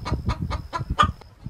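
A chicken clucks in a quick series of about six short, sharp clucks, evenly spaced and close, followed by a fainter one at the end.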